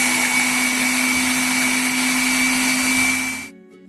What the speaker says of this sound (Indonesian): Kemudian blender bumbu hingga halus.